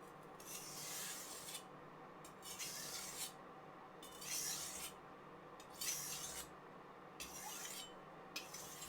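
A blade is sharpened on a Parkside 1000 grit whetstone in slow, regular rasping strokes, six or so gritty passes with short pauses between them, close and quiet, with no voices.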